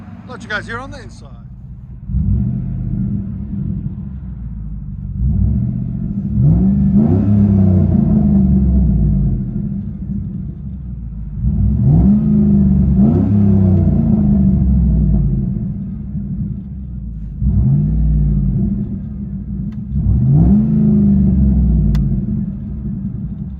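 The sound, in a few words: straight-piped 2007 Chevy Suburban exhaust heard from inside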